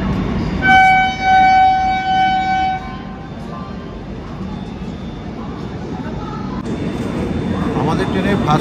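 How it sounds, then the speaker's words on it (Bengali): A train pulls into Kharagpur station: a loud horn blares in a few long blasts at the start, then a steady rolling rumble of the wheels continues, with voices audible in the carriage. "একদম ট্রেন রাইট টাইমে কিন্তু খড়গপুর ঢুকছে"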